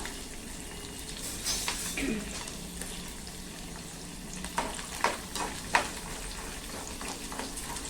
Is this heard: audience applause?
no